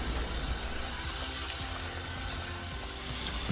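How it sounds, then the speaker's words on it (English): Frozen shrimp are rinsed under cold running tap water, a steady close splashing gush from the faucet that continues throughout with no talking. "Rinse in cold water to separate the shrimps that are frozen together."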